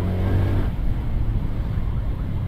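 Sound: road traffic noise while stuck in traffic

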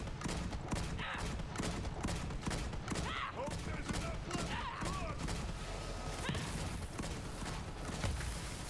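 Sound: enemies firing guns at the player in the video game Borderlands 3

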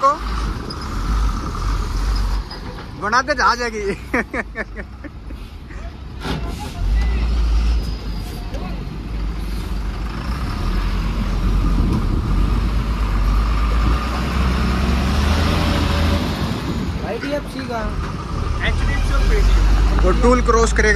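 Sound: large truck being driven

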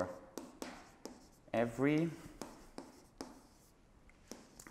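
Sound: writing with a pen or chalk

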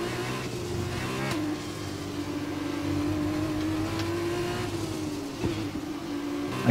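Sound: F2 race car engine revving, from video game F1 2021

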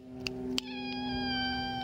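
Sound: cat meowing

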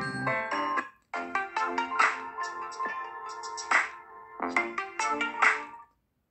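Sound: phone ringtone

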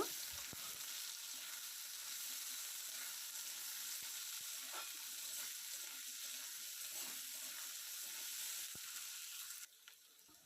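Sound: potatoes frying in oil with chopped onion

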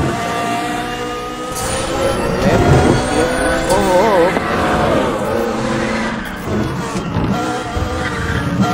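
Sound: car driving in Need for Speed: The Run video game

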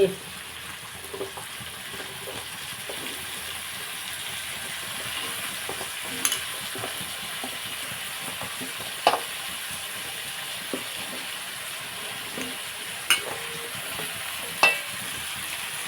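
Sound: pumpkin pieces frying and being stirred in a pan

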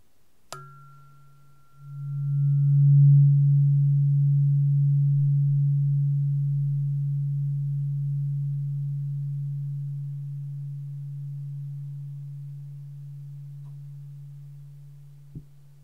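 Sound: tuning fork ringing near each ear

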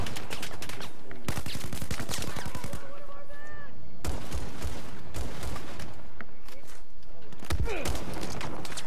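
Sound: gunfire in a video game

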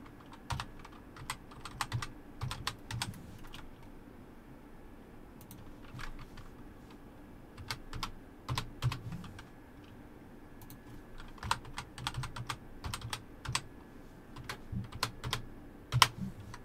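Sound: typing a password on a computer keyboard

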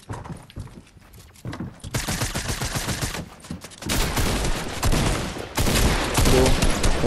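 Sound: gunfire from other teams in the video game Fortnite

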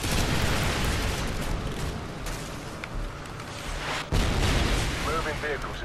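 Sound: Javelin missile strike explosion in video game Modern Warfare 2

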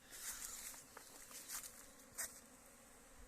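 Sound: honey bees flying and working at hive entrance

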